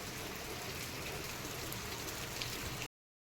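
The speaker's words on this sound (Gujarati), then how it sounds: "વરસાદ વરસી ગયો છે અને હજી ફૂલ ગાજે છે" Steady rain patters softly and evenly over open farm fields, a continuous gentle hiss with no voices, cutting off abruptly near the end.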